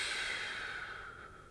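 Slow breathing, as in a calming breathwork exercise focused on the exhale: one long, close airy breath that fades gradually over about a second and a half.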